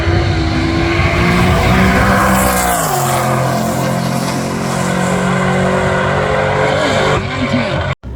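A drag race car with a 10-0 index tune roars loudly and close at a racing event, the engine pitch dropping partway through before cutting off abruptly near the end.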